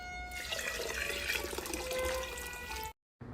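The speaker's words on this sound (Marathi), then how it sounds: "चला आपण आता पाणी घालूया यात" Water being poured into a pot of soaked, salted rice for cooking, a close steady splashing stream that cuts off abruptly near the end.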